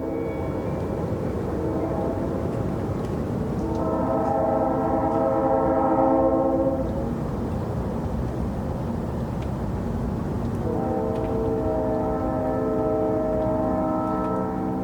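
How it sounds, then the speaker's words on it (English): Train horns sound from far off at midnight in two long, drawn-out blasts with a gap between, each a layered chord over a low rumble of rail noise. "the midnight air bends and twists the train horns into an eccentric symphony"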